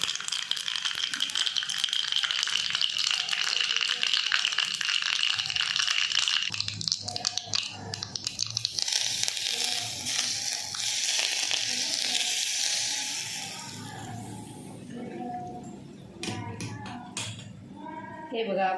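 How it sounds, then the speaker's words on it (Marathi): Mustard seeds and cumin sizzle in hot oil, giving a bright crackling hiss that fades partway through, followed by utensil clinks and rattles against a pan, with a person talking over it. "त्याच्यामध्ये मोहरी टाकून घेतली। आता त्याच्यामध्ये जिरं टाकून घेणार आहे।"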